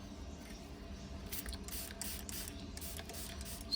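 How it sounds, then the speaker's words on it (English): Short spray bursts of alcohol onto a stick used for resin work, a few hissing puffs in a quick cluster over low mechanical background noise, close and moderately quiet. "Right, I'm just going to spray"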